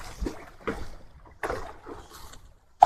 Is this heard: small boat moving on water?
yes